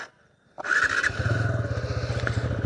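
A TVS Apache RTR 160 motorcycle engine catches near the mic, then pulls away in first gear with a loud, steady rhythmic exhaust thrum that keeps going.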